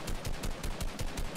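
Rapid automatic gunfire in Fortnite rattles off in a fast, even burst of about a dozen shots, fairly faint and with no voices.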